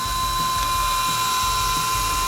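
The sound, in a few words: motorized head of Smart Supporter SS3 phone holder moving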